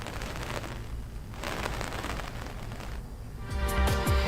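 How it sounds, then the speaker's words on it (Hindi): Continuous rain falling in Jammu and Kashmir, a soft steady hiss of drops on surfaces, fairly faint, with a louder patter of nearby drops toward the end. "जम्मू कश्मीर के मुख्तलिफ इलाकों में मुसलसल बारिश हो रही है"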